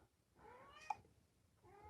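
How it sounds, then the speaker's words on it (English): A house cat gives two soft meows, with a brief quiet gap between them, close by in a quiet room. "Don't mind a cat."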